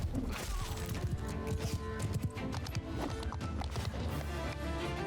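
Horse hooves galloping in the Mount & Blade II: Bannerlord video game, rapid overlapping clip-clop from several mounts in a busy battle mix, with a neigh and crashing impacts among them.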